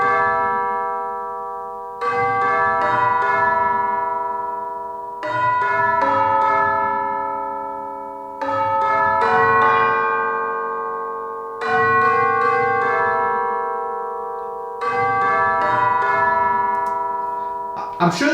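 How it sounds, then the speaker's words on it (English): Tubular bells in an orchestral piece, struck in five loud, ringing strikes spaced about three seconds apart, each hit a cluster of bright metallic tones that decays slowly into the next. "once it got to about the third one, it was as if the bells were struck harder with more intentionality"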